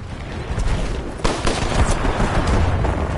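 Pistol gunfire in the Titanfall 2 video game, a dense run of sharp shots over busy game noise, loud and continuous across the short stretch with a strong burst near the middle.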